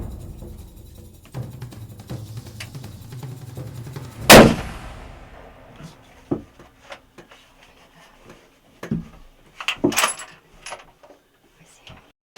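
A single loud, sharp rifle shot from a hunting rifle fitted with a Vortex scope, fired at an axis deer outdoors. After the blast come scattered faint rustles and clicks, with a few soft thumps further on.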